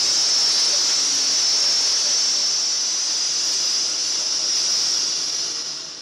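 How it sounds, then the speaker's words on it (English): A steady, loud hiss of steam holds without a break throughout, like water flashing off fire in a smoke simulator. "You can hear we're getting steam from it now."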